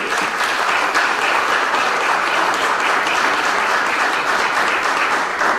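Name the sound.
audience applause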